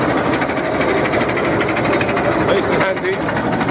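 A Honda 13hp engine on a flail mower runs loud and steady at close range, a continuous mechanical drone with a rapid rhythmic chatter throughout and a brief dip near the end, with some speech mixed in.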